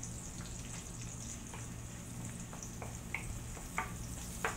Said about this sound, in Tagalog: Tapos sunodin natin yung bawang at saka sibuyas. Ganun na naman talaga, basic lang na magisa-gisa.